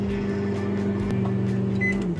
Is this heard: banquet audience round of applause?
no